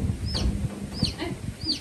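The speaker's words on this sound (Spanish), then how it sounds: "Mira el pollito" A chick cheeps and clucks close by, three short rising calls at an even pace over a low background murmur.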